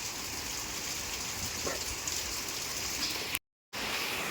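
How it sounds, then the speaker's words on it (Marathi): Heavy monsoon rain falls in a steady, dense hiss, close and continuous, with a brief total dropout near the end before the downpour resumes. "अगदी मिरगात लागतं तसा पाऊस लागतोय."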